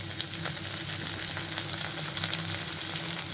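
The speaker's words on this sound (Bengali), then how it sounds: "আমি পেঁয়াজগুলো ভেজে নিচ্ছি। আমি ডিমগুলো দিয়ে দিচ্ছি" Onions and fish roe frying in oil, giving a steady, even crackle and sizzle throughout at moderate volume, with no talking.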